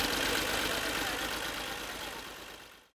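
Tractor engine running steadily while driving over layers of silage fodder to press them down, a continuous loud rumbling drone that fades and cuts off at the end.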